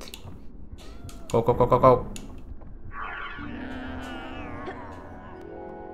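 A cat meows in a Harry Potter video game, a drawn-out, wavering cry after a short burst of rapid clicks, fairly close and clear with a faint voice nearby.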